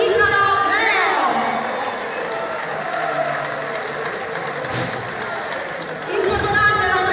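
A large crowd at a Salernitana football team presentation applauds and cheers in a steady, loud wash, with music and a public-address voice mixed in.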